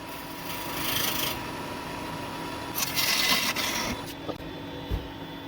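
A pot base being faced on a wood lathe, the turning tool scraping the spinning wood in two rasping bursts over a steady low hum, with a few sharper ticks near the end and no talking.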